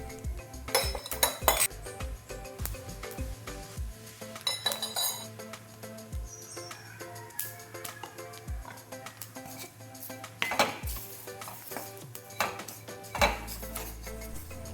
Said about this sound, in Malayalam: നമുക്കപ്പോൾ ഇതിനെ നന്നായിട്ടൊന്ന് വറുക്കാം.